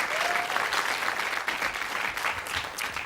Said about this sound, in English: So give her another round of applause as She goes back to her desk.